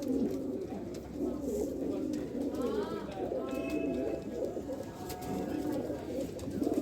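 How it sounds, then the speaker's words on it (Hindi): Rampuri pigeons coo softly in a steady, rolling murmur throughout, with a few higher chirps and faint metallic ticks mixed in, heard close up over a constant low background hum. "ओरिजिनल रामपुरी कबूतर"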